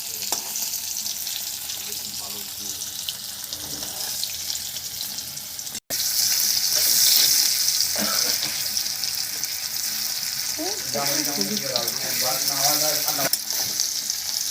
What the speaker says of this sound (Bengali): এই যে পনিরটা হালকা করে ভেজে নিয়েছি